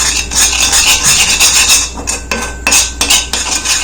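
Homemade hair dye mixed with conditioner in a bowl, a loud, close metallic scraping and clinking as a spoon is worked against the bowl in quick uneven strokes, with no voices.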